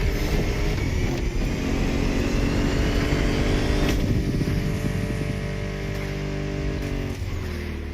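American muscle car engines in the video game The Crew Motorfest roar steadily and loudly, with droning revving tones that shift through gears, close up and continuous, with no speech.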